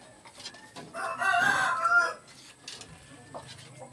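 A Bangkok rooster crows once, a single strained mid-length call rising and falling, heard fairly close against a quiet poultry farm background with faint scattered sounds before and after.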